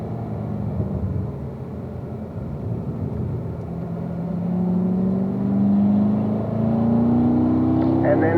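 A race car on a track brakes into a turn, an engine drone heard from inside the car. The drone swells as the engine pitch slowly rises and whines, and a voice talks over it.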